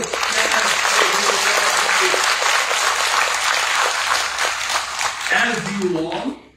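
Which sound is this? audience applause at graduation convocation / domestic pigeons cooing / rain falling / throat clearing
audience applause at graduation convocation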